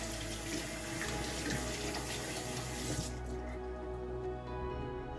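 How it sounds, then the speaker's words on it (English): Running water from a bathroom sink tap splashes steadily over a hand being rinsed, a close, continuous wash that drops off sharply near the end as the flow is reduced or the hand moves away. "But I'll just rinse my hand off."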